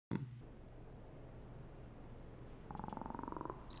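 Synthetic insect-like buzzing and chirping made with the Serum synth plugin, layered into a dense electronic texture, with a steady high whine and a pulsing rattle joining near the end.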